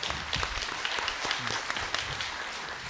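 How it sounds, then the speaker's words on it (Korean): An audience at a public debate forum in Changwon claps continuously to welcome speakers, a dense, steady round of applause. "큰 박수로 환영하겠습니다."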